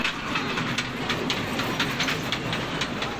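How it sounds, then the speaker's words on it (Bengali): An electric dragon train ride at a fair rolls along with a steady rushing hiss and rhythmic clicking, continuous and fairly close, with no talk. "ট্রেনে উঠবে, মানে ড্রাগন ট্রেন। এই ট্রেন বিদ্যুৎ চালিত।"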